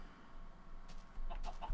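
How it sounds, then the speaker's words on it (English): A chicken clucks in a video game, a few short, faint clucks near the end over a quiet ambient background. "Just a chicken."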